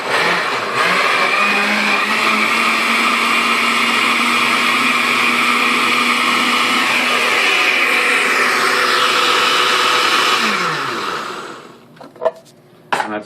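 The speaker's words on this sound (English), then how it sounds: "we're going to go and blend this up" A countertop blender whirs steadily for about ten seconds, blending the dressing for a spicy cucumber salad, with a loud sustained motor drone that shifts pitch slightly before winding down and stopping, followed by a few faint clicks.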